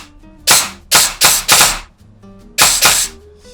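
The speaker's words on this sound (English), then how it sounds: "the twanging is definitely from the spring" Airsoft AK gearbox firing on semi-auto, six sharp shots in two bursts of four and two, each crack ringing with a metallic spring twang, loud and close with no talking.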